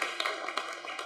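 An audience at a community voting discussion in Phoenix applauding, a short stretch of scattered, moderately close clapping with distinct individual claps.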